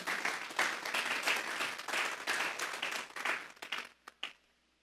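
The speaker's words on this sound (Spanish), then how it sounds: "Vamos a darle un fuerte aplauso pues al Señor." Church congregation applauding during a worship service, a steady burst of clapping that thins into a few scattered claps and fades to quiet near the end.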